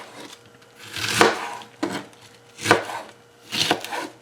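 A knife slices a head of cabbage thinly on a cutting board, giving three crisp crunching cuts spaced about a second and a half apart, close and clear with no talking.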